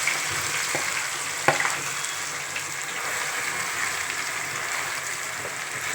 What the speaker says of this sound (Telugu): ఎక్కువ ఆయిల్తో బ్రీఫ్ అవ్వాలండి, ఆయిల్లోనే ఉడకాలండి